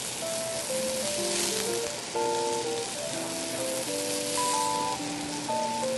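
Scallops pan-searing in a hot pan give a steady, close crackling sizzle that runs throughout beneath a gentle melodic musical background.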